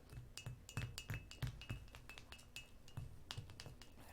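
A spoon stirs a mixture in a glass, making a quick run of light, bright clinks and taps in an irregular rhythm, faint and close, with no one speaking.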